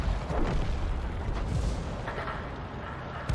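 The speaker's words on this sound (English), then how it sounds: "The 155mm M1 howitzer is very powerful." A 155mm M1 howitzer fires in a tank battle game, producing heavy, booming blasts with rumbling tails, loud and close, layered over continuous engine and battlefield noise.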